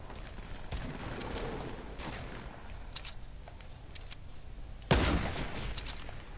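Shotgun blasts in a multiplayer video game: scattered gunfire through the first seconds, then one loud, sharp close blast near the end over a steady background of game noise.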